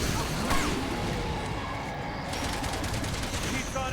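Sustained gunfire against a boss in Resident Evil 6, a dense, loud barrage of shots with crashes and whooshes layered over game noise, running continuously throughout.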